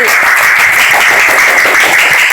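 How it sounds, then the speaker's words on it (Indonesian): Loud, close classroom applause as students clap for a classmate at a teacher's prompt, a dense steady patter of many hands. "tepuk tangan untuk Mas Nawawi"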